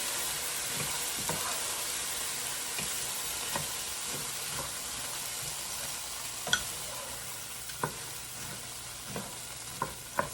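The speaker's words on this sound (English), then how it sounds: "let the corn just kind of saute. You want it to kind of crisp up a little bit" Corn sautés and crisps in a pan, giving a soft continuous sizzle with scattered pops and spatula scrapes that grow a little sharper toward the end, and no one speaks.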